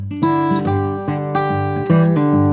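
A guitar picks a short phrase from a tune, with ornaments around the melody: several bright plucked notes ring over a steady low bass, close and clear.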